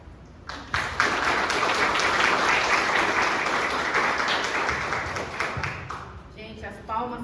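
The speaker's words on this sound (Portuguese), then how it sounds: "as palmas são para Jesus" Audience applause breaks out at a Brazilian Portuguese talk during a Setembro Amarelo (suicide prevention) event, a dense sustained wash of clapping lasting several seconds before it thins out, with a voice speaking over the tail end.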